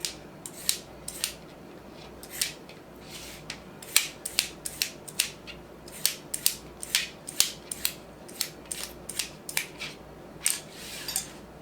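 A knife slices through a very ripe tomato in a home kitchen, making about twenty crisp, quiet cutting clicks in an uneven rhythm, close up with no voices.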